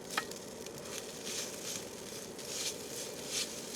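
Beef being stirred back into a hot pan gives a steady, moderate sizzle with soft scraping and rustling as the pieces are moved around, continuous throughout with no talking.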